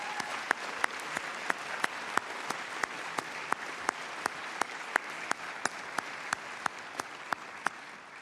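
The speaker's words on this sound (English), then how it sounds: "if we can clap really loudly so he too can hear," A hall audience at a college honors convocation applauds steadily as a dense wash of clapping, with a few sharper nearby claps ticking out at regular intervals, sustained and even throughout.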